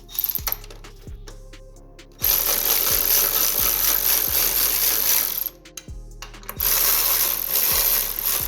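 Ratchet wrench tightening bolts on a front strut bar for a Nissan 300ZX Z32. Rapid repeated clicking runs in bursts, with a few short pauses between stretches of cranking. It sounds close and loud, with no talking.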